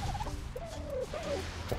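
Turkey gobbling in the video game Annunaki Genesis Reborn, a short warbling gobble in two or three quick bursts over a low background hum.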